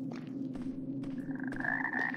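Frogs croak in the game Arx Fatalis, a low throbbing rattle with a few sharp bursts and a higher trilling note joining in, steady and fairly close, with no voices.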